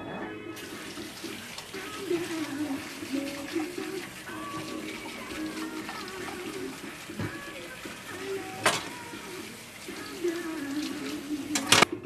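Dirty carrots being washed under running tap water at a kitchen sink for Jamaican carrot juice, a steady close water stream with brief splashes and clatters.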